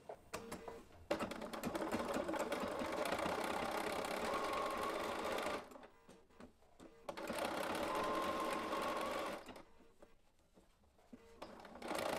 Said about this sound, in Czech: Teď si sešijeme ten jeden boční šev.